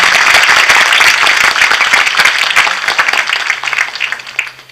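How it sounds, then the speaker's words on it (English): Children give their parents a loud round of applause at a medical college event, dense clapping that holds strong and then thins out and fades toward the end. "So all kids should give a big round of applause to their parents."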